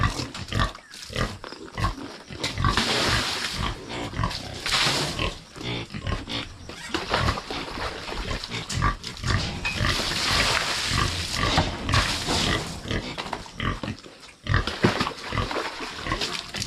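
Three pregnant sows grunt continuously at close range, a dense, loud chorus of snorts and low oinks with no talking.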